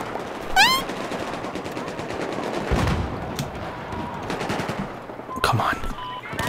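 Rapid bursts of automatic gunfire from a Battlefield 4 match crackle in quick succession, with distant shots and game effects in the background while players talk over the action.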